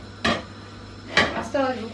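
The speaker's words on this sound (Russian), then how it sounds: "осталось буквально пару блинчиков дожарить и будем начинять" A few sharp metallic clinks of a utensil against a pan while frying pancakes, three distinct hits close by, with a faint sizzle underneath.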